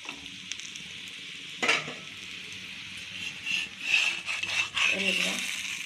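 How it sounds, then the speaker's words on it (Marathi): Paneer frankie rolls shallow-fry in oil on a hot tawa, giving a crackling sizzle that swells in bursts alongside scraping and stirring clatter, with a voice talking over it. "मी थोडं इथे तेल टाकत आहे आणि आपण आपले जे रोल आहेत थोडेसे शालो फ्राय करून घेऊया"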